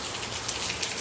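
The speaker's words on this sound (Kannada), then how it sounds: "ಎಷ್ಟು ಚೆನ್ನಾಗಿ ಮಳೆ ಬರ್ತಾ ಇದೆ" Monsoon rain in Mangalore patters down in a soft, even wash, fairly quiet and constant, with no voices heard.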